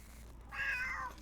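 A pet cat named Simone gives a single short, close meow, clear and fairly loud against quiet room hum.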